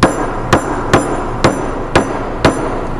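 A series of six crisp taps of a hard plastic-tipped hammer on a roller's end cap, spaced about half a second apart, close up with nothing else sounding.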